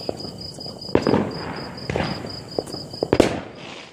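Fireworks burst one after another, sharp loud pops and crackles over a steady high whistling tone, several blasts in quick succession.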